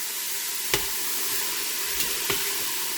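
Vegetables sweat in a soup pot with kosher salt and black pepper, giving a steady soft sizzle and hiss close by, broken by a few brief knocks of stirring.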